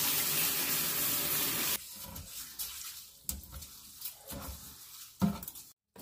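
Water poured from a tap over sesame seeds in a kitchen, a steady rushing stream that stops abruptly, followed by faint scattered clinks and rustles close by.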